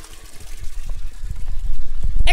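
Water runs steadily from an outdoor tap in a hill village, a continuous close trickling rush that grows slightly louder toward the end.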